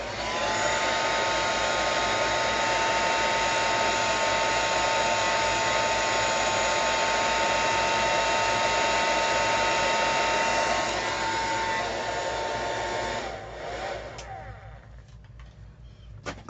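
Hair dryer blowing steadily at close range to dry paint on a mixed media collage background, a constant loud whir that cuts out near the end, leaving faint handling noise.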